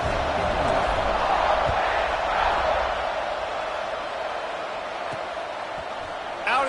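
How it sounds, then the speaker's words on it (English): A simulated stadium crowd in the College Football 26 video game hums with a constant, broad buzzing roar that stays fairly even throughout. "this crowd is buzzing after that last score"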